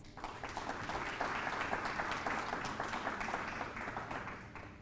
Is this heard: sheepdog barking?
no